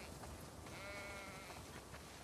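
Sheep in The Last of Us Part II give a single wavering bleat in the middle of a low, steady ambient bed, moderately close.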